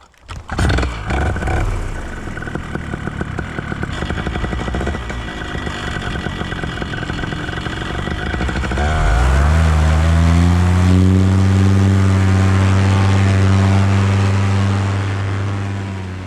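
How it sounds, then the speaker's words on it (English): A paramotor engine starts up on the ground and runs, loud and close, its tone steadying into a strong droning hum after a rough beginning. "Managed to get the engine started, but the important thing is I've got it started safely."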